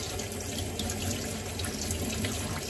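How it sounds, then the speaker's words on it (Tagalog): Squid being washed under a running kitchen tap for calamari, a steady close rush of water splashing into a sink, continuous and even throughout with no talk. "Hugasan ng maayos."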